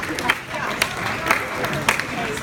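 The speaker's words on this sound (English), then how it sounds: "round of applause to you guys" Wedding guests at a best man speech breaking into applause, a short burst of clapping from a crowd that carries through the room with a few sharper claps standing out.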